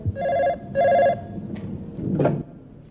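A telephone bell rings in two loud, even bursts inside an office, followed by fainter clatter and shuffling.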